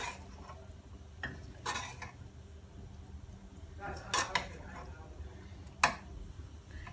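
A spoon clinks against a dish while garam masala is mixed into chana chaat, giving a few sparse, moderately loud clinks over a low, steady kitchen hum.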